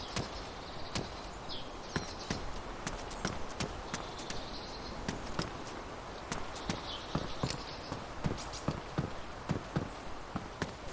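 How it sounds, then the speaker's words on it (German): In the game DayZ, footsteps sound from below the player on a Chernarus rooftop, a faint, steady series of quick repeated footfalls that keeps going throughout. "Ich höre Schritte unter uns."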